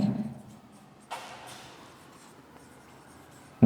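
A pen scratches out an equation during an electrical circuits lesson on AC fundamentals, with a short burst of faint, close writing strokes followed by softer scraping and no speech.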